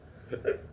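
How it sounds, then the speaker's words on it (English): A single soft hiccup, then a second slightly stronger one, close and quiet against faint room noise. "Sorry, hiccups."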